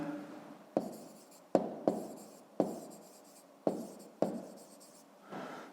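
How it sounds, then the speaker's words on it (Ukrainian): A pen writes an answer by hand on paper for a fifth-grade math exercise: a close, quiet series of scratchy strokes, each starting with a sharp tap and trailing off, repeating unevenly over several seconds. "Пишемо тоді відповідь"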